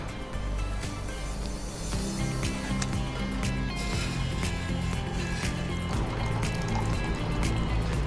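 Water is poured steadily into a cooking pot for beans in a kitchen, a continuous splashing fill with small bright drips.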